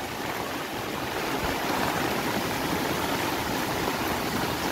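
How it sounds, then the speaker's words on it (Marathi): Floodwater two to three feet deep flows across a submerged plot in a constant, loud rushing roar that stays even throughout. "आणि हा मस्त पाणी वाहून राहिला"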